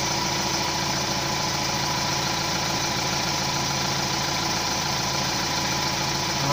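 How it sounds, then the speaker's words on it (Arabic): A car engine idles steadily and close, still cold from the start, with a constant low rumble and a faint knocking vibration that holds without change and with no talk. "هاو كتسمع الموتور كي داير"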